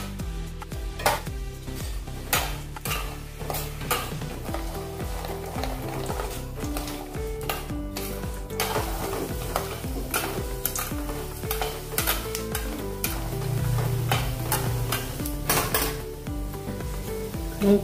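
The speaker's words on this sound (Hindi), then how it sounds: "अभी हम इसमें मूंगफली तलेंगे।" Peanuts fry in hot oil in a pan while chivda namkeen is made. A steady, close sizzle continues throughout, broken by repeated scraping and clinking from stirring against the pan.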